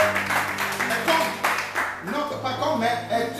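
A church congregation clapping in rhythm during a sermon, a run of close, even claps for about two seconds that then fades as a voice continues speaking.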